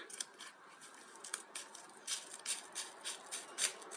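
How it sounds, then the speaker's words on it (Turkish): Scissors snip along the edge of a plastic nursery bag holding a potted plant, a series of small crisp cuts and crinkles in an irregular rhythm, close and fairly quiet, with no talking. "Yavaşça kenarından poşetini kestim."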